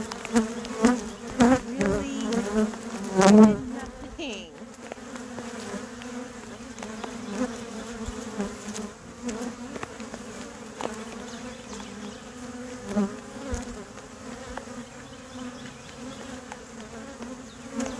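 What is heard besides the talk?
honey bees buzzing around an open hive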